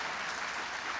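Audience applause at an Illinois 12th Congressional District debate at Lindenwood University, a steady broadband wash of clapping that fills the whole second at moderate level with no voices over it.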